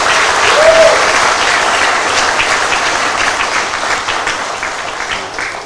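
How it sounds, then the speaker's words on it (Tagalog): A crowd applauds steadily for police officers in Manila, dense clapping throughout, fading slightly toward the end. "Palakpakan nyo naman si General Balba."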